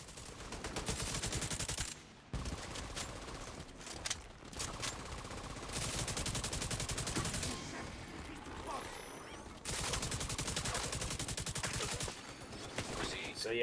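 The Quiet Roar weapon fires in The Division 2 in long, dense automatic bursts broken by a few short pauses, loud and up front, with voices now and then.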